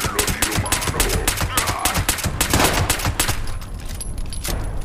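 Rapid bursts of rifle gunfire from the video game Fallout 76, loud and continuous, with dense overlapping shots and clattering mechanical noise throughout.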